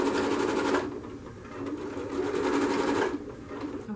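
A sewing machine stitches curtain fabric in fast, even bursts, running for under a second, pausing briefly, then running again for a longer stretch, close and alone with no talk.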